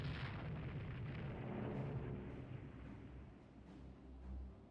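A shell strikes a ship's torpedo mounts in the naval game Rule the Waves 2, heard as a deep rumbling explosion that rolls on and slowly fades, with a low thud near the end.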